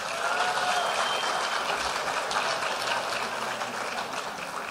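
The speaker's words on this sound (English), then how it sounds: "how about another big round of applause for all of our judges" An audience at a senior pageant applauds the judges, a steady, dense wash of clapping that holds at an even level throughout without breaking into distinct claps.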